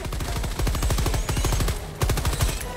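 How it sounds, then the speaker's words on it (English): Rapid machine gun fire in the Helldivers 2 video game, loud and close, in dense rhythmic bursts that run almost unbroken for a few seconds with a brief gap before the shooting resumes. "That machine gun."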